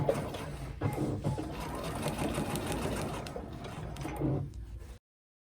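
Sewing machine stitching a suit coat hem, a steady close mechanical whir running several seconds, easing briefly before stopping abruptly.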